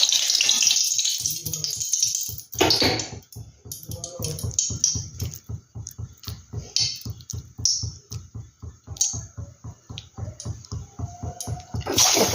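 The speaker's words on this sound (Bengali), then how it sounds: "এক এক করে ভেজে নিচ্ছি" Bottle gourd muitha dumplings fry in hot oil close up: a steady sizzling hiss runs throughout, broken by quick, rhythmic crackles and pops.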